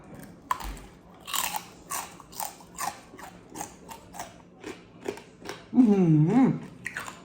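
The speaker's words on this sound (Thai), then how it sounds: "คริสปี้มากมากเลยค่ะกรอบกรุบกรุบกรุบกรุบกรุบกรุบค่ะ" Repeated sharp crunches of something crispy being bitten and chewed, close up, followed by a brief voiced hum.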